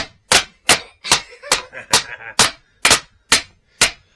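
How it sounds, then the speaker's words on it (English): Nails are driven by hammer during a bedroom build, ten sharp, evenly spaced whacks close by with a steady rhythm and no talking over them. "look, David knows how to hammer"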